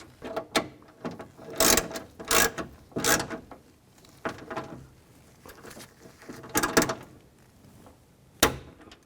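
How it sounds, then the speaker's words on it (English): A 10mm ratchet wrench tightens nuts on a Ford E-250 power window regulator, giving several bursts of close mechanical clicking and rasping, some short and some drawn out, with no voices. "you're going to need that 10mm wrench behind holding the nut. Tighten these down."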